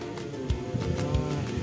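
A sacrificial goat being held by hand gives a few low, moaning bleats, close and moderately loud over a steady background hum, with no talking.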